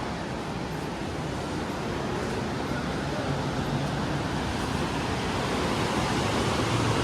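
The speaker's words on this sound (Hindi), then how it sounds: "यहाँ से जैसा कि आप सुन रहे होंगे नेचुरल साउंड इस नदी का, कितनी तेज़ आवाज़ है इसकी" Constant loud roar of a fast-flowing mountain river on the route to Hemkund Sahib, dense and unbroken throughout, with no talking.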